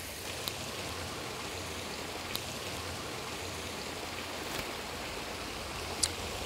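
A WaterVac pond vacuum, started by wireless remote, draws in pond water with a steady, quiet rushing hiss like light rain, broken by a few faint ticks.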